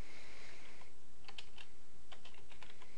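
Quick, light keystrokes on a computer keyboard as a DOS command is entered, a handful of soft clicks over steady background hiss with a faint tone early on.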